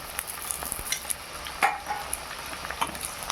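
Onions sizzle steadily in a pan while they brown for a mutton and potato curry, with occasional stirring scrapes and light clinks over a constant frying hiss and no talking.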